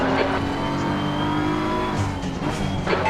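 A race car at speed on the Laguna Seca track during a multiclass race, with a loud continuous engine roar that rises and falls slightly and a faint tire squeal mixed in.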